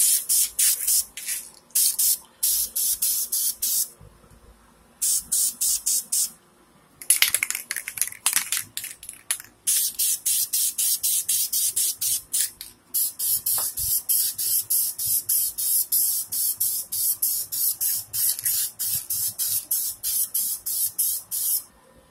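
An aerosol spray can lays paint on small-block Chevy 305 cylinder heads in short bursts, a loud close hiss repeatedly starting and stopping with brief pauses, then longer sustained sprays with rattly pulsing texture.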